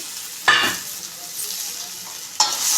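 Cut eggplant pieces frying in oil in a pan, with a steady soft sizzle broken by two distinct scraping stir strokes, near and moderately quiet.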